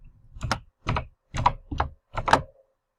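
Five distinct key presses on a computer keyboard, close and crisp, as an Excel formula is typed and Enter is struck, spaced at an uneven rhythm with no talk.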